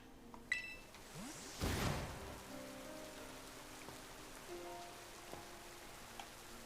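Steady rain in a Pokémon Tera Raid battle, a soft, even patter heard faintly throughout, with a brief whoosh early on and a few small game beeps and chimes over it.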